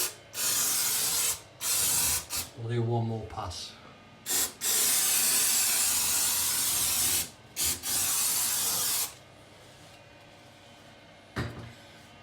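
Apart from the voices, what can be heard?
aerosol cleaner spray being sprayed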